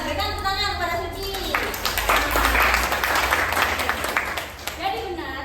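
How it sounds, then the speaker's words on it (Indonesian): A school classroom of students claps for a classmate, steady applause mixed with children's voices and chatter, fairly loud and continuous throughout. "Berikan tepuk tangan kepada Suci."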